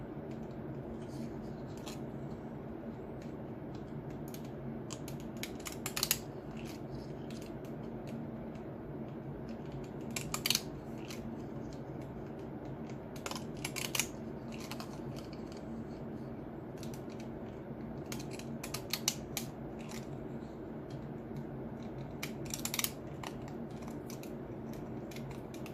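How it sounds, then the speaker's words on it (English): Scissors snip along paper to cut a deckled edge, with a string of short, crisp cuts spaced every few seconds over a quiet room background. "So I'll run my scissors down the edge."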